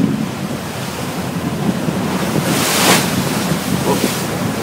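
Ferry crossing from Karaköy to Kadıköy, a constant roar of wind buffeting the microphone over rushing waves and hull wash, with a brief louder gust near the middle.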